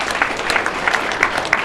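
Audience clapping at a live talk, a dense burst of many hands at once with sharper individual claps poking through, brief and fairly close, with no voices over it.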